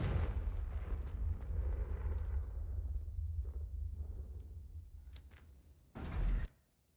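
Fire-spell blasts in Hogwarts Legacy: a long rumbling explosion fades slowly, then a second short, loud burst near the end, with no talking.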